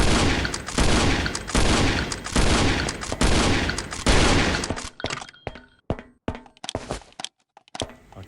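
Gunfire in the survival video game Last Island of Survival, with a burst of rapid loud shotgun blasts followed by a few sparser shots and thuds as the action settles.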